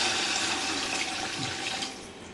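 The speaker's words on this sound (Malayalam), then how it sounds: "അപ്പോൾ നമുക്ക് ആദ്യം വെള്ളം ഒഴിച്ചു കൊടുക്കാം." Water pours steadily into a cooking pot for kappa (tapioca) dhum biryani, a close, continuous rushing splash that thins out and fades toward the end.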